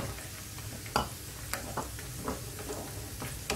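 Coconut pieces and cashews frying in a pan, a soft steady sizzle with a few sharp scraping clicks from stirring.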